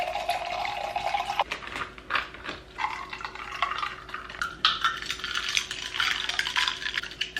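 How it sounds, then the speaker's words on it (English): A battery-powered electric whisk frothing matcha, a steady thin motor hum under choppy, splashing stirring noises in a cup, close up and without talk. "That is an aggressive whisk."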